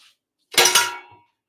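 A spoon clatters against a bowl while mixing porcupine-ball ingredients, a single short burst of scraping clinks lasting well under a second, close and fairly loud, with no talking.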